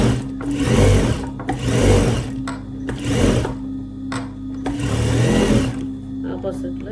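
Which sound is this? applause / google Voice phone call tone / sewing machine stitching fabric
sewing machine stitching fabric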